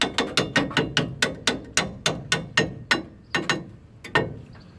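A ball peen hammer taps brake pads into place on a Ford F-150's rear brakes: a rapid, regular series of sharp metallic knocks close up, about a dozen strikes, then a few more spaced blows.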